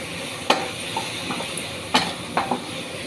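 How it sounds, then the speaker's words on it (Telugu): Tomatoes frying in a pan for a kabuli chana (chickpea) curry, a steady low hiss under a few sharp scrapes and knocks of a spoon against the pan, with no talk. "ఇదిగోండి ఇది టమాటా వేసి ఇలాగ వేపాలండి"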